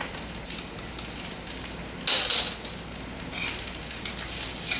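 Fresh raw shrimp and chopped garlic sizzle in a hot pan, a steady close crackle that swells briefly with a sharp burst midway before settling back to an even hiss.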